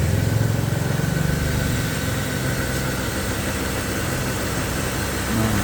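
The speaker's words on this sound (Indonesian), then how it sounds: "Mesin sudah dinyalakan 2000 rpm." A motorcycle engine runs steadily at 2000 rpm with its throttle wedged open by a PVC pipe, giving a loud, constant, droning rumble with a fine vibrating texture throughout and no speech.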